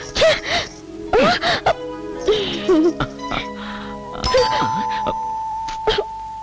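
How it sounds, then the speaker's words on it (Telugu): A household calling bell rings at a front door, its steady electronic tone heard mostly in the second half beneath people talking loudly and expressively close by. "అడుక్కోడానికి కూడా కాలింగ్ బెల్ నొక్కాలా?"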